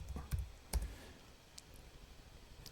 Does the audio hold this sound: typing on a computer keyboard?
yes